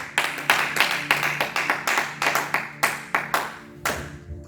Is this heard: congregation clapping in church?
yes